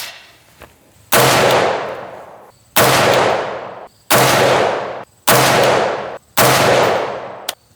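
Unsuppressed Bushmaster AR rifle with a 20-inch barrel firing M193-type 55-grain rounds: five loud, sharp, separate shots about a second apart, each followed by a long ringing decay.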